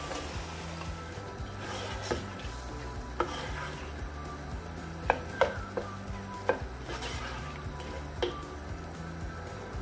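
Tomatoes going into a frying pan of egg koftas, giving a run of soft irregular clatters and taps over a faint steady sizzle, fairly close with no voices.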